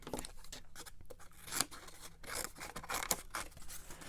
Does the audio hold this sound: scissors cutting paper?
yes